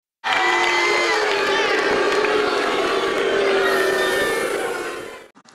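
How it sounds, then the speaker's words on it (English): A football game crowd roars and shouts in a sustained, loud mass of voices, starting abruptly, holding for about five seconds, then cutting off. "perhaps you've heard the sound of a crowd at a football game when the ref makes a bad call"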